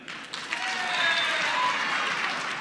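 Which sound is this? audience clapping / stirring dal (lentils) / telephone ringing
audience clapping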